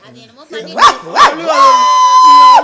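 A dog barks twice in quick succession, then lets out a long drawn whine or howl, loud and close, with no other sounds around it.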